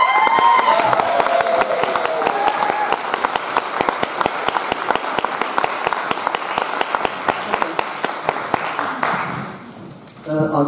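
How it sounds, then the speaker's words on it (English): A live audience gives a long round of applause for a speaker, loud, steady clapping with some raised voices and cheers near the start, holding for about nine seconds before thinning out and fading toward the end. "And I'd like you to give a big round of applause for Barry Trower."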